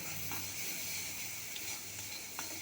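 Spice paste of chili, garlic, onion and cumin sizzles steadily in a pan while being stirred, a continuous close hiss with faint scraping and no voices.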